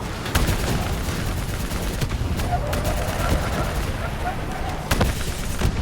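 Constant rattling gunfire from a Call of Duty Black Ops III match, with dense automatic bursts and sharp single shots stacked on a noisy game mix, loud and continuous throughout.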